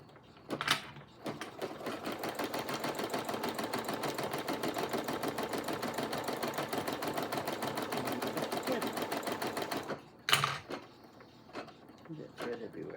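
An embroidery machine stitches a design onto toilet paper, a fast steady mechanical pulsing that runs for about nine seconds close up, framed by brief clicks and handling noises before and after.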